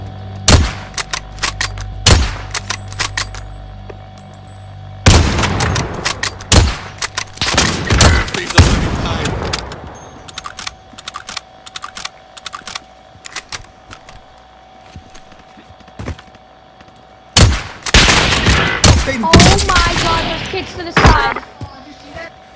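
Gunfire rings out in Call of Duty: Modern Warfare, with sharp close shots and rapid automatic bursts coming in clusters, loud and repeated across the stretch, separated by quieter gaps of game ambience.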